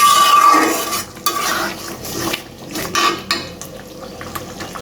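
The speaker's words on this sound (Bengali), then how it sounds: "তো এই তো মশলাটা কষিয়ে নিচ্ছি" Spice masala is stirred and sautéed in a pot, with repeated metal spoon scrapes and clanks against the pot over a light sizzle, no one talking.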